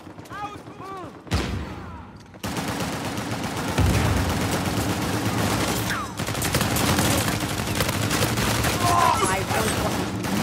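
Rapid bursts of automatic gunfire and scattered shots from Uncharted 4 multiplayer in Bounty Hunter mode, sustained and loud for most of the stretch after a brief quieter opening, with a voice talking over the action.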